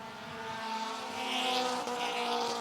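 Pro Compact race cars roaring around Mt. Lawn Speedway in a dense, sustained pack of engine noise, loud and close with a slight swell as they pass.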